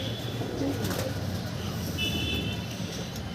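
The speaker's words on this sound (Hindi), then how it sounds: "ये कबूतर बैठ चुके हैं" Pigeons coo softly amid a steady, noisy outdoor background, with faint chirps and distant traffic.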